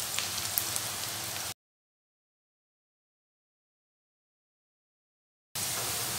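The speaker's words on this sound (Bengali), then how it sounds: "পেঁয়াজটা একেবারে লাল করে ভাজব" Thinly sliced onions deep-fry in oil for crispy fried onions for a Kolkata-style mutton biryani, with a dense rain-like hiss that drops to total silence midway, then returns just as strong.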